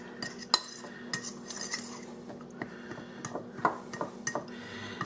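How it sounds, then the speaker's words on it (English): A fork stirs brownie batter in a bowl, giving a run of irregular light clinks and scrapes against the bowl, with sharper taps at intervals, close and fairly quiet. "I'll just use a fork. I'm gonna mix this together."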